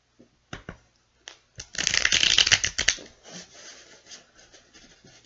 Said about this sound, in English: a few more shuffles in there.